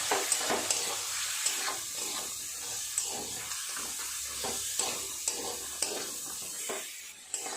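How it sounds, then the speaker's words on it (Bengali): Crabs sauté in a pan with spice masala and a splash of water for a crab oil-jhal curry, giving a steady close sizzle broken by repeated spoon scrapes and stirring clicks, with no talking. "খুব ভালো করে এইভাবে একটু সময় নিয়ে কষিয়ে নেব"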